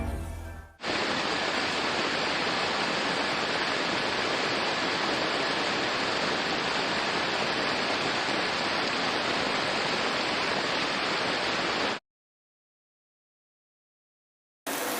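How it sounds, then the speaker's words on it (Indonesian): Dense, steady roar of heavy rain pouring without pause for about twelve seconds, then it cuts to silence before briefly returning. "langit menjadi gelap dan turun hujan yang sangat deras disertai petir"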